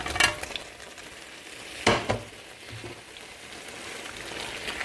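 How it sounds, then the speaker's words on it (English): Plantains go into a hot pan on the stove and sizzle with a faint steady frying hiss, broken by a couple of sharper clattering stirs. "I'm going to go ahead and add the plantains."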